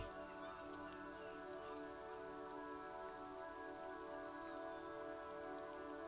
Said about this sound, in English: rain falls down on the world